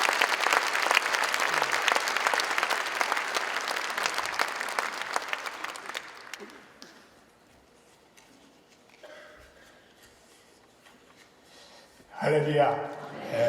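At a Korean-American church prayer gathering, the congregation gives loud, dense applause to welcome the pastor; it tapers to near silence by the midpoint, and a voice begins speaking at the end.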